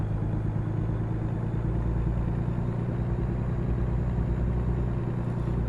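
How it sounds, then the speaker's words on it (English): Heavy truck engine labouring up a hill on a curvy coastal road in American Truck Simulator, a steady low drone that holds constant and close throughout with no talk. "You can really hear the engine struggle on some of these hills."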